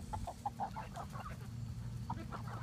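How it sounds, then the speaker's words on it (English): Chickens in a fenced backyard run cluck in a quick series of short, fairly faint calls, pause, then cluck again over a low background hum. "What kind of chicken is this?"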